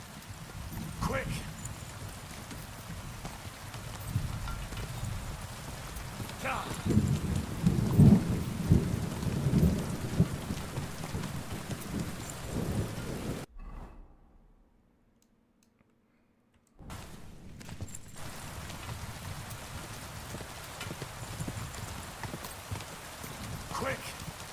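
Rain falls steadily in a video game, with low rumbling thunder and other game sounds. The storm drops into brief silence partway through, then resumes at the same level.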